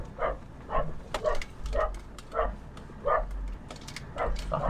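A small dachshund barks repeatedly at a campsite with steady, close, yappy barks about every half second, over low rumbling wind and scuffing.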